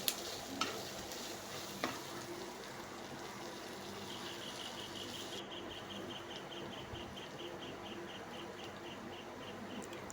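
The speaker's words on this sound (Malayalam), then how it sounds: "മഞ്ഞൾപ്പൊടി നന്നായിട്ടൊന്ന് മിക്സ് ചെയ്യാം." Turmeric powder being stirred into fish curry in a pan after leaves have wilted, with a steady soft sizzle and scraping stirs at low volume, plus a couple of light knocks early on.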